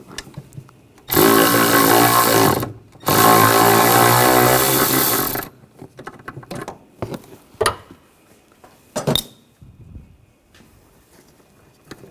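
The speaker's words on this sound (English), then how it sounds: "Take that nut off. And you have one down below." A BMW X5 from the 2007-2013 range has a brake master cylinder nut taken off, heard as two long loud bursts of a power tool spinning, then scattered clicks and clanks of metal tools.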